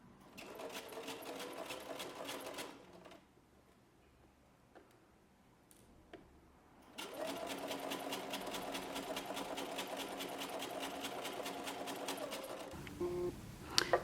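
A sewing machine stitches a neckband onto a knit tee shirt in two close, steady runs of rapid ticking needle strokes, split by a few seconds of near quiet, then stopping with a couple of soft handling knocks.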